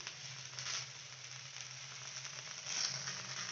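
Okra (bhindi) fries in a little oil in a pan, giving a soft, steady sizzle with faint crackles throughout, heard close up and unbroken by talk, swelling slightly near the end.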